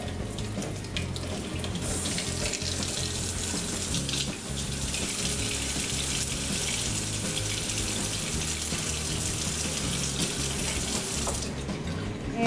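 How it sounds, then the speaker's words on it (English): Cold water streams steadily from a kitchen tap into a sink for rinsing while sausage is being made, a continuous close hiss and splash lasting the whole stretch with no talk. "Rinse this out a little bit with some good cold water."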